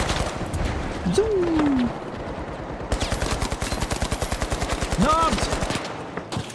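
Automatic gunfire in the shooter game The Finals: a fast, steady burst of shots that runs through the second half, with a voice calling out in between.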